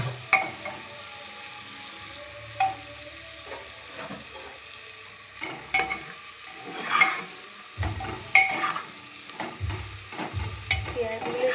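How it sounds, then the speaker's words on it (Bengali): Onions frying in a pan over a high gas flame make a continuous sizzle close by, punctuated every few seconds by scraping stirs and light knocks of a spatula against the pan. "পেঁয়াজগুলো একটু লাল লাল হয়ে গেলে একটু মানে ব্রাউন করে ভেজে নেবো"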